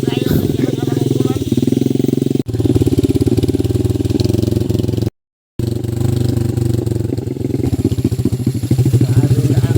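A motorcycle with no brakes runs loudly and steadily nearby, its throbbing rumble cut by a brief gap of silence partway through.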